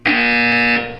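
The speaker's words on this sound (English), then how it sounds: "When you hear the buzzer, look up at the ceiling" A loud, steady electronic alarm buzzer from the Portal 2 video game sounds once, a single sustained tone of about one second with no talk over it.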